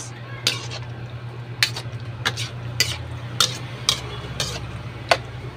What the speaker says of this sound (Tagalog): Mix, mix, mix.